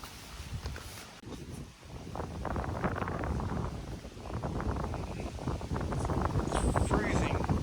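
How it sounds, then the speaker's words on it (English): Wind blows steadily outdoors, rumbling against the microphone in a continuous low roar while a person talks over it. "Because the wind is coming from this way."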